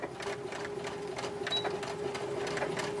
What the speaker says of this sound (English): I'm going to position it here on my sewing machine